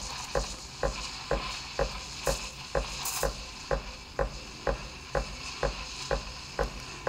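A steam wand on a De'Longhi La Specialista espresso machine froths milk in a jug with a steady hiss, broken by regular soft clicks about twice a second, close up and alone.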